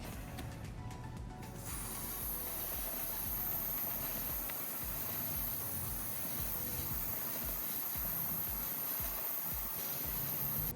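Chain lube hisses from a spray can onto the chain of a Triumph Street Triple motorcycle, a continuous, fairly faint spray lasting around ten seconds, with no voices.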